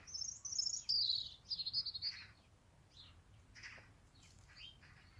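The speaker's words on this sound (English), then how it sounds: "I think that's a robin at the top of that tree singing." A robin sings a series of bright, high warbling phrases from a treetop close by, followed by softer scattered chirps in a quiet outdoor setting between winter and spring.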